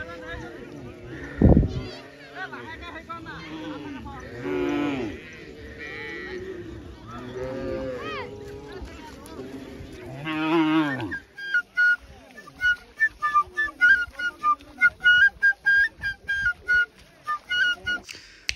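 Cattle moo repeatedly nearby in long, drawn-out lowing calls after their bath at Goru Bihu, followed by a stretch of quick, irregular clattering.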